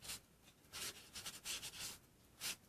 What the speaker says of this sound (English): you're just going to rub across lightly just to give that rubbed out chalkboard effect